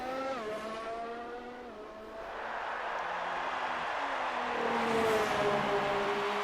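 Racing cars in a sim racing game at a German circuit, engines revving and shifting up through gears with rising and falling whines, one car accelerating and passing, loud and continuous without talk.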